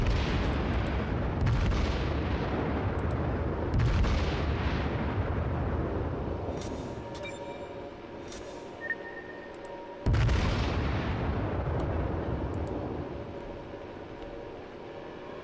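Heavy booming salvos from the main guns of the battleship Fuso in World of Warships, three big blasts spaced several seconds apart, each with a long rolling decay and distant cannon rumble between.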